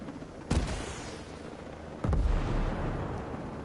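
Two heavy booming gunfire blasts in a video game, each a sudden loud thump followed by a rumbling decay, over a low steady background drone.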